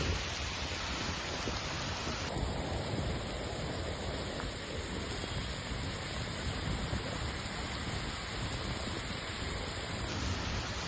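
Heavy rain pours in Gujarat as a dense, steady broadband roar that stays loud and unbroken throughout, with no distinct thunderclaps standing out and no voices.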